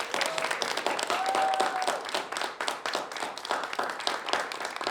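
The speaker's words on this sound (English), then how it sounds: "Give him another round of applause." A comedy show audience applauds, dense sustained clapping from a crowd that holds strong and slowly thins toward the end, with a brief whoop early on.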